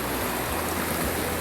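Fast, dangerous stream water rushes in Dudhpathari, Kashmir, a loud, steady, close roar of churning current with no pauses.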